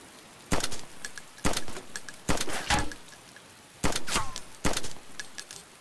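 Single gunshots from an M4 rifle in the survival game DayZ, about six sharp reports in a loose, uneven rhythm, each ringing out with a short echoing tail over faint ambient noise.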